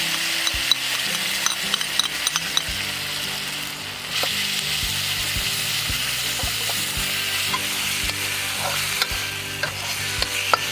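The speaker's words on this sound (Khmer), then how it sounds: "យកមកឆាឲ្យឈ្ងុយសិន" Pounded garlic and chili stir-fried in hot oil in a pan, a steady crackling sizzle with repeated scraping and clinking of a spatula against the pan, close and alone without talk.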